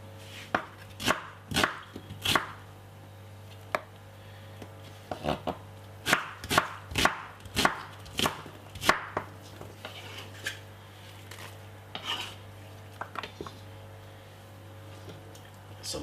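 A knife chops white onion on a board for a jerk chicken marinade, with quick bursts of crisp close thuds, pauses between runs, then sparser single cuts toward the end.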